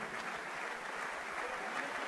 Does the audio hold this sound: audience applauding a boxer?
yes